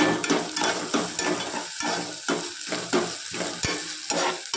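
Onion and ginger paste with salt sautéed in a pan, loud rhythmic scraping strokes from stirring, roughly two per second, over a continuous close sizzle.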